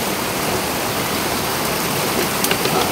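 A river flowing, heard while walking along it: steady, dense rushing water noise, fairly loud and continuous throughout with no talk.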